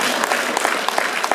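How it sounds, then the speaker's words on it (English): An audience at a live hip-hop show at the Getty Museum in Los Angeles claps in a brief, steady burst of dense applause, loud and close throughout. "Now, y'all shouldn't applaud that."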